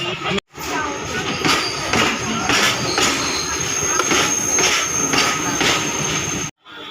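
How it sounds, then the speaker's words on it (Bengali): The Kanchanjunga Express pulls out of Rampurhat station with a loud, continuous rumble of rolling wagons, rhythmic wheel clatter and a thin squeal. The roar fills the whole stretch before cutting off abruptly. "তিন নম্বর প্ল্যাটফর্ম থেকেও কাঞ্চনজঙ্ঘা এক্সপ্রেস ছেড়ে দিয়েছে আগরতলার উদ্দেশ্যে"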